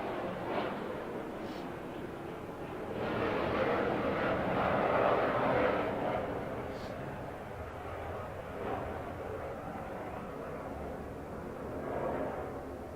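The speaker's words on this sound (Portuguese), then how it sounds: "enquanto o avião passa" A fixed-wing airplane passes overhead, a broad low engine roar swelling to a peak midway and slowly fading, moderately loud and distant-sounding throughout.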